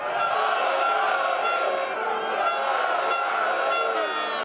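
Thousands of hockey fans cheer in an arena in Khakassia at Sayany's first Superleague home match against Start, a loud, sustained roar of voices with tooting horns mixed in.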